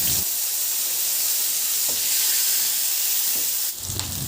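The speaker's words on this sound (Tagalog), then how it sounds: "Igisa ko na yung bawang. Ihalo lang din hanggang sa maglabas ng aroma at igisa ko na rin yung sibuyas." Garlic and onion sautéing in oil in a pan, a steady close hiss and sizzle that holds without a break and swells briefly near the end.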